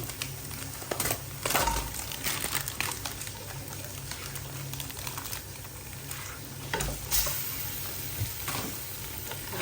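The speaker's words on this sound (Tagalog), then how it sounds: "Haluin po natin siya hanggang maging brown na maluto talaga siya." Ground pork mince fries in a pan with a soft steady sizzle and irregular scraping and clicking strokes from stirring, fairly quiet and close.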